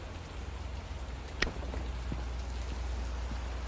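Steady rain falls on hard surfaces in Batman: The Telltale Series, a dense, even hiss with a low rumble and no voices.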